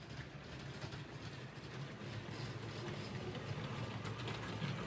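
A LEGO Disney train locomotive runs steadily around a tabletop track layout, giving a faint, continuous mechanical hum and rolling rattle with no pauses.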